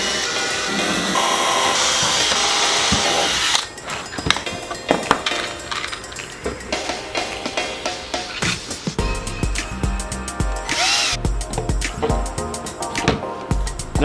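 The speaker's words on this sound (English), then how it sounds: "What we want to do right now is start drilling holes and get this into the carpet." Bursts of a power drill whirring and biting into a car's carpet, with clicks and knocks between runs, close and fairly loud.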